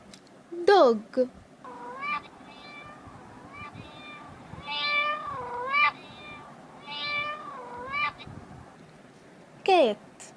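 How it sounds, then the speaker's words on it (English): A cat meows several times, with rising and falling, slightly whiny calls spaced irregularly, close and clear, between brief spoken words at the beginning and end. "Cat."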